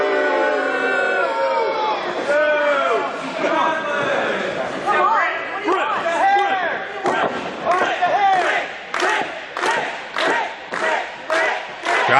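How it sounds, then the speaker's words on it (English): A wrestling crowd roars and yells for Britt Baker, a loud sustained swell of voices that gives way to rhythmic chanting and sharp bursts near the end. "Crowd coming alive for Britt"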